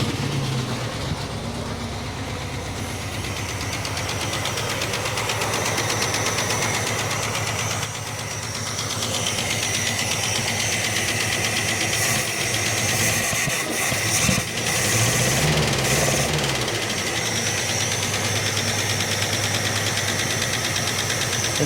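A Plymouth Barracuda engine idles steadily with a noisy cylinder, giving a continuous mechanical knock and ticking over a low rumble, heard close up in a backyard, with no talk.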